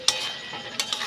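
Ridge gourd and shrimp are stirred in a pan, giving a short burst of close sizzling frying with a couple of sharp spoon scrapes.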